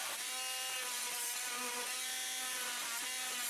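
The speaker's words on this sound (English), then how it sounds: "I cut a 2 mm deep recess into the plywood" A power tool cuts a 2 mm deep recess into plywood, a steady, loud, continuous whine with a grinding edge that holds for several seconds without pause.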